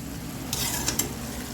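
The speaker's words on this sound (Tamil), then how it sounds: "அங்கே அது சிக்கன் வதங்கிட்டு இருக்கு." Chicken sautéing in oil for a homemade chicken semi gravy, giving a steady low sizzle with a few brief scraping stirs near the middle; quiet and close, with no talking.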